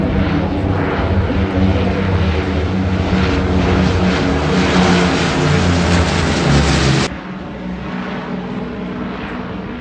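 Airbus A400M transport aircraft of the RAF's 20 Squadron flying over an airshow, its loud, steady propeller and engine roar filling the air for about seven seconds before abruptly dropping to a quieter, more distant drone.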